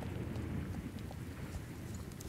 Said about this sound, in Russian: А, гроза.